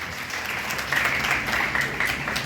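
Crowd of people on a roadside clapping for a singer who sang in the street to raise money for a family; dense, steady applause from many hands, continuous and fairly loud throughout.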